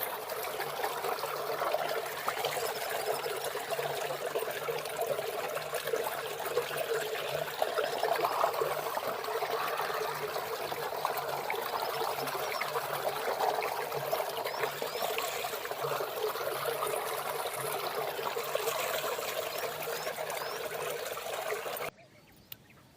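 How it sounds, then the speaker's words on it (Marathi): Running water trickles steadily over hadga flowers being rinsed clean, a soft continuous splashing stream that stops abruptly near the end. "तर त्या पाण्याखाली चांगली स्वच्छ धुवून घ्यायची."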